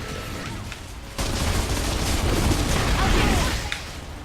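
Sustained gunfire and blasts from the video game Gears of War: Judgment, a dense, noisy barrage that jumps louder after a second and rolls on continuously to the end.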